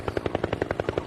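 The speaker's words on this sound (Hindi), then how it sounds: "हेलीकॉप्टर का आवाज कहाँ से आ रहा है?" A helicopter's rotor gives a rapid, even chopping pulse, about ten beats in a second, loud and close, with no voices.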